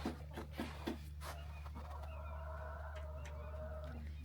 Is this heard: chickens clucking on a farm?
yes